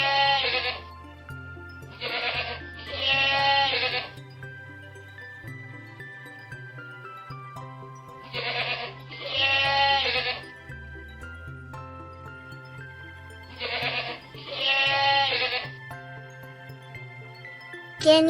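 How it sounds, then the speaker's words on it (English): A lamb bleats in three separate groups of wavering, high calls, each followed by a quiet pause, heard alone and fairly close. "Lamb."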